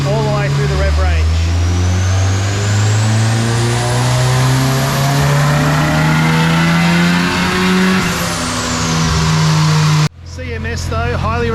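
A turbocharged VTEC Honda Integra on a dyno, engine revving loud and close as the pitch climbs steadily through the rev range, then cutting off sharply before a second lower run begins.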